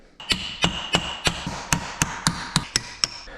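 Hammer blows tapping a GM 10 bolt front axle spindle loose, about ten sharp metallic strikes in an even, quickening rhythm, close and clear with a ringing tone.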